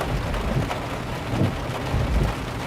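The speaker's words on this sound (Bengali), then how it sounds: "কি সুন্দর বৃষ্টি।" Steady rain falls with a dense, even hiss, and low rumbling swells that suggest distant thunder come and go. It stays fairly loud throughout, with no voices.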